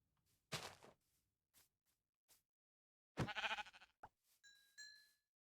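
Sheep bleating close by in a few separate calls, one long wavering bleat and shorter ones, between quiet gaps with faint knocks and a thin electronic tone.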